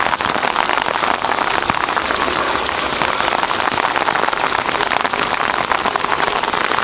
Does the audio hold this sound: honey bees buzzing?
no